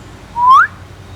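A single short human whistle used to stop a deer, sliding upward in pitch and lasting about a third of a second, clear against a quiet background.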